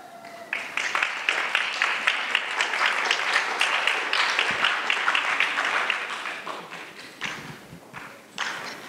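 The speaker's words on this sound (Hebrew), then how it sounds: "ואתם יודעים איך זה הולך עם המחיאות כפיים" Audience at a playback theatre show claps steadily and warmly, a dense wash of applause that holds for several seconds before thinning out toward the end.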